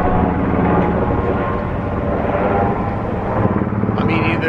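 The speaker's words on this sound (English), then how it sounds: "There's a whole bunch of helicopters going." A low, rumbling engine drone of several helicopters overhead, steady and fairly loud, with a muffled voice faintly underneath.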